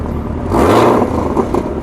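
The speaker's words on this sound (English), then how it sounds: "The only thing you hear is the subtle whine of the supercharger going on." A 2017 Chevrolet Camaro ZL1 in stealth mode gives off a subtle supercharger whine over a low, even engine hum that swells briefly, fairly close and alone.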